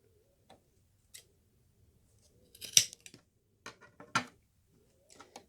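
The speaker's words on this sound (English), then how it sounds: "I'll snip that in half" Fabric scissors snip through a sewn strap for a crossbody bag, giving a few sharp, close cuts and clicks separated by quiet pauses.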